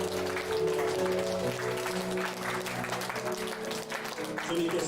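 A church congregation applauds during a Parents' Day Sunday morning service at Zion Church, a continuous wash of clapping mixed with sustained musical tones and some voices underneath.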